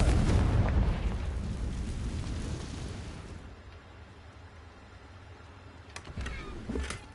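A Confringo fire spell bursts in Hogwarts Legacy, a heavy booming blast that rumbles and fades over a few seconds, followed by faint softer pops.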